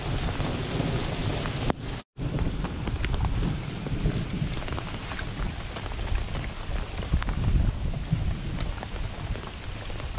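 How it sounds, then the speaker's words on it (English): Heavy rain pours down steadily in a dense continuous hiss around a boat launch during a thunderstorm, with a brief dropout near two seconds and low rumbling underneath. "It was pouring down rain."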